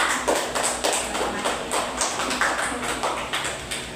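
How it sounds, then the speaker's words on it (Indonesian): Classroom applause for classmates, a loose patter of hand claps from a group of students, steady and moderately close throughout. "Beri aplaus kepada teman-temannya"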